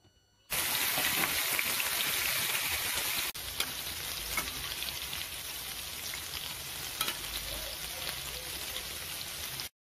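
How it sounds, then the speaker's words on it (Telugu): Green chilli bajji pieces frying in hot oil, a loud dense crackling sizzle starting abruptly and continuing steadily, close up with no talk. "వీటిని ఇప్పుడు ఆయిల్లోను ఫ్రై చేసుకోవాలండి"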